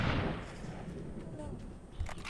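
A single gunshot in a video game, a sharp loud burst at the very start that decays into a rumbling tail, with a player's voice nearby.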